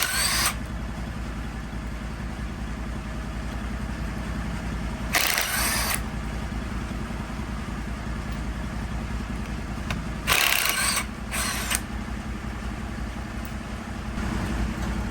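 Ratchet wrench clicking in a few short rapid bursts while removing bolts on a 71-year-old tractor, set against a steady background engine-like hum.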